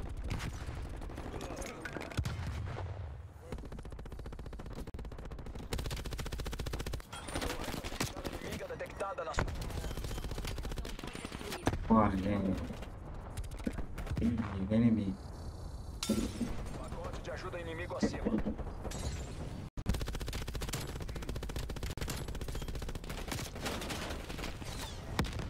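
Automatic gunfire in the shooter game Black Ops Cold War during a team deathmatch, with rapid bursts and loud shots layered over continuous game sound, while a player talks throughout.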